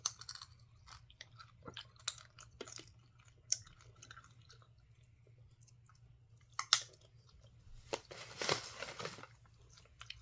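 Crunchy chewing and biting of sweet and salty treats, close and fairly quiet, with sporadic crisp crunches and a louder burst of mastication near the end, over a low steady hum.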